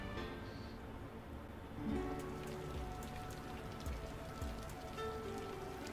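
Soft, steady patter of rain on a surface in the visual novel game A Sky Full of Stars, quiet and continuous over a low background with a faint musical tone.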